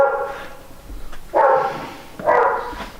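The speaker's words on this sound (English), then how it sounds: "These damn dogs just won't shut up." Dogs bark near a garage where an engine is being prepped for installation: two loud, close barks about a second apart, each a short harsh burst following a quieter yip, with no talk.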